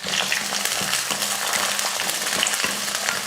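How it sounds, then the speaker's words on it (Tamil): Small onions frying in hot oil with cinnamon, cardamom, cloves and curry leaves, a steady, close, dense sizzle that runs unbroken throughout with faint stirring. "வெங்காயத்தை அந்த பச்சை மணம் இல்லாத அளவுக்கு நல்லா வதக்கிக்கணும்."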